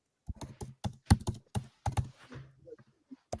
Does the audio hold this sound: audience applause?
no